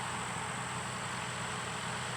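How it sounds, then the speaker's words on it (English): A farm tractor laying fertilizer along future bed tracks on a tomato farm drones as a low, steady engine rumble with a constant hiss over it, faint and unchanging for a couple of seconds. "This tractor that we're looking at now is actually putting down fertilizer in the track where the beds are going to be."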